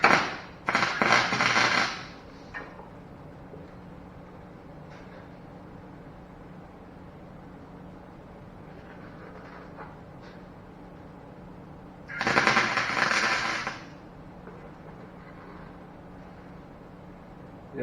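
Short bursts of welding on the thin sheet metal of a C10 Blazer gas tank, two crackling sizzles a few seconds apart separated by quiet pauses.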